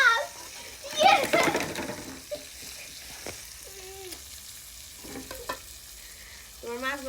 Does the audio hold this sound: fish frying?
yes